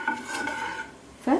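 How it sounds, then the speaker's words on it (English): Two frying pans set down for shallow frying fish in a Coastal Andhra home kitchen, giving a short metallic clatter and scrape with a sharper clank of pan contact near the end. "So these are the 2 pans"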